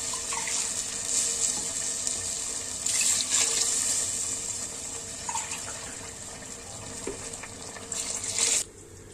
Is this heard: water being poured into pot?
yes